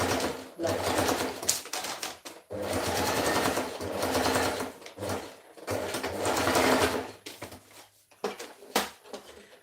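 A sewing machine stitches fabric in running bursts, its rapid mechanical chatter starting and stopping several times at close range, with brief pauses between runs.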